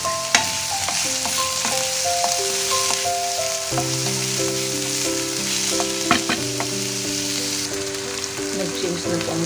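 Finely chopped ginger frying in a pan for chicken curry, a steady sizzle with occasional stirring scrapes, close and continuous, while melodic background music plays underneath.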